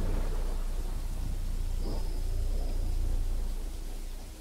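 Thunder sound effect in a Spanish audiobook: a low, sustained rumble blended with a hiss like steady rain, loud and unbroken, fading slightly at the end, with no voice over it.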